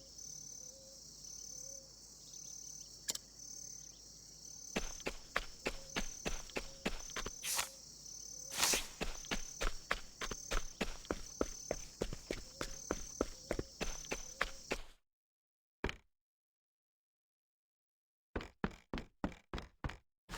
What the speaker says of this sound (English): Have some loud ass footsteps.